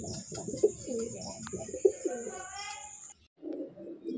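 Young Sky Banter breed pigeons coo close by in soft repeated low rolling calls, with a steady high tone running under them for most of the clip.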